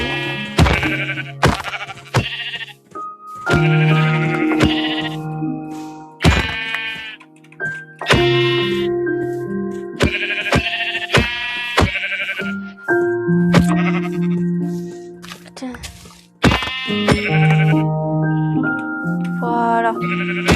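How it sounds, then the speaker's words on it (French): Sheep in the Minecraft video game bleat again and again, loud and near, mixed with game thunks and clicks over about twenty seconds. "Bah tiens, des moutons."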